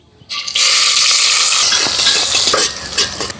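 Chopped onion with cardamom, cinnamon and bay leaf hits hot oil in a brass pot, bursting into a loud, steady sizzle that holds for about three seconds with faint stirring clinks.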